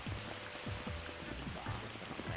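Rain in the video game GTA V patters steadily as a soft, even hiss with small drop ticks, faint and unbroken.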